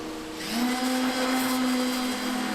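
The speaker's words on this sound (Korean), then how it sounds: "저 진공 청소기 소리를 내는 공구는 내부 진동기입니다." Internal concrete vibrator running during concrete pouring at a precast concrete factory, a steady close whining hum like a vacuum cleaner that starts abruptly after a half second and holds constant.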